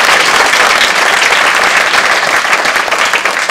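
A church congregation applauds loudly and continuously during a Portuguese-language sermon, a thick, sustained wash of clapping with no break.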